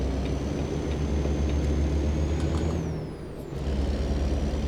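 A heavy truck in the video game American Truck Simulator applies its air brakes. A loud, steady engine drone and broadband hiss dip briefly, then swell back, with a faint high whine drifting above.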